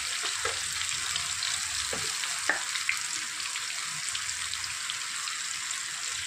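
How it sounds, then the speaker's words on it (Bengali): Pointed gourd fries in a pan with salt and turmeric, a continuous bright sizzling hiss with occasional small pops and stirring knocks, close and steady. "তো চলো পটলগুলো খুব ভালো করে ভেজে নিয়ে আসছি।"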